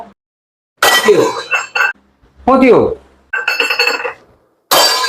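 Metal utensils clink and clatter in several sharp bursts, close and loud, with voices talking in between.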